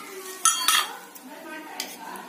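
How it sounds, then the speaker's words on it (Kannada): A cooking pan handled on a kitchen stovetop while ghee is added for making rava unde, giving two sharp metallic clinks close together, then softer scraping and a faint later clink, heard close and alone. "ಈಗ ಬಾಂಡ್ಲಿ ತಗೊಂಡು ನಾನು ಸ್ವಲ್ಪ ತುಪ್ಪ ಹಾಕಿ"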